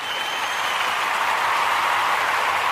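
A crowd claps steadily, a dense even patter of applause that holds at a constant level throughout.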